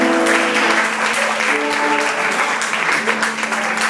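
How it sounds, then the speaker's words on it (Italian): An audience at a live rock gig in an Irish pub applauds with loud, dense clapping, while held musical tones ring underneath throughout. "un applauso per il Link al basso."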